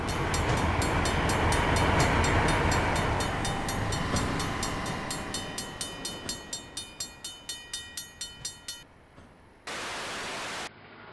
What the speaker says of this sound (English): This is his rendition of the ADL/ADC diesel multiple unit.